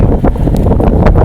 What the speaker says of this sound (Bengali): প্রচুর বৃষ্টি, প্রচুর বাতাস।